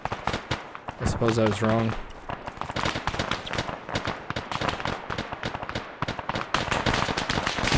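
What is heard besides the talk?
gunfire in Arma 3 video game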